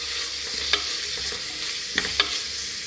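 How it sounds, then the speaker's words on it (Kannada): Ingredients for mutton leg soup fry in hot oil, a close, continuous hiss with a few sharp crackles and stirring scrapes, no speech. "ಫಸ್ಟ್ ಇದು ಫ್ರೈ ಆಗುತ್ತೆ. നല്ല തെൽ ഫ്രൈ ആവട്ടെ."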